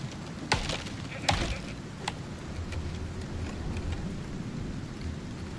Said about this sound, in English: the storm exposure there is quite severe. It's just a rainy one